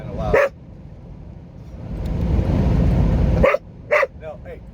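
Inside a car on westbound I-70 in the Colorado Rockies, a dog lets out a close, loud bark, then falls quiet while road noise swells, and finishes with two quick barks near the end.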